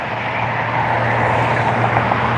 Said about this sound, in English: Here we have another Delta, should be coming from Atlanta, a Boeing 737.